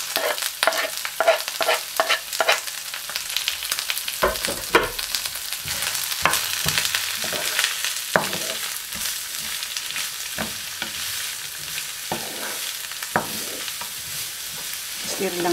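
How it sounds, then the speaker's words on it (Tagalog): Fish fillet and celery are stirred in a hot pan, with continuous sizzling broken by repeated scraping and clacking strokes of a utensil, close and fairly loud. "Stir lang po natin."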